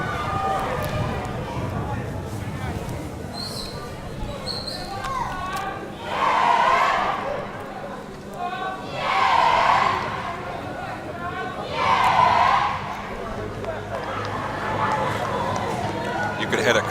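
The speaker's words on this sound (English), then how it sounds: "You could hear the crowd already going." A crowd at a school football game in the Windward Islands School Games, Grenada versus St. Vincent, rises in three swelling waves of cheering and shouting over a steady background din, while a commentator talks throughout.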